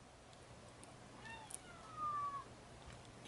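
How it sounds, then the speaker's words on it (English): A cat meows faintly in the background of an indoor room, one or two brief rising calls over quiet room noise. "That is a cat in the background,"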